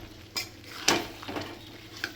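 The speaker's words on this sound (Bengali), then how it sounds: "আজকে চিকেনটা আমি একটুখানি গ্রেভি গ্রেভি করে রান্না করব, কষা কষা করে।" Chicken being stir-fried down into a gravy, with a few brief scraping stirs and a soft sizzle in a pan, quiet and close, no talking.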